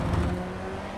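Engine of a Ray FF1600 race car in iRacing at Laguna Seca, a faint, steady whirring drone holding one pitch for a moment, with no voices.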